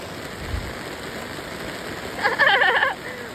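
Heavy monsoon rain patters steadily on an umbrella in the Konkan countryside, a dense hiss running throughout, with a voice briefly speaking near the end.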